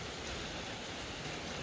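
Steady rain falling, a dense, even hiss with no separate drops standing out, close and constant for the whole short stretch with no voices.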